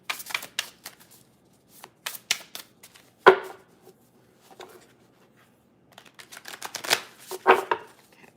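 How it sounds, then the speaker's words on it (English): Tarot cards being mixed by hand for a collective reading, a run of soft riffling and slapping bursts with a sharp snap near the middle and a denser flurry toward the end, fairly close and with no talking. "I'm going to go ahead and mix these cards up for the general collective tarot reading"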